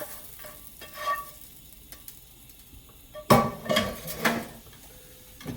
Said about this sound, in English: Stir them around nicely